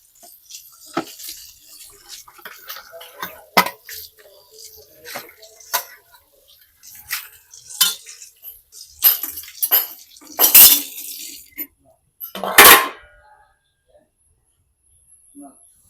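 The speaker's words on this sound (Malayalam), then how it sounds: "ആകെ ഇനി ഈ ഒരു പാത്രം കൂടെ ഉള്ളൂ, അതുകൂടി കഴുകി വെക്കാം" A metal pot is scrubbed and clanked in a home kitchen, with irregular sharp knocks and scrapes, some loud and near, separated by quiet gaps, while someone talks.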